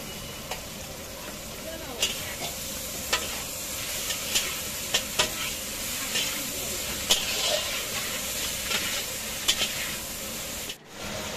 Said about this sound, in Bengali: এবার আমি পুঁই শাকটা দিয়ে দেব।